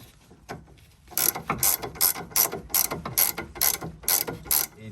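A hand ratchet tightens a sway bar link nut during a car suspension repair, clicking in a quick, steady series of about ten close, loud pulls after a brief quieter start, with no talking.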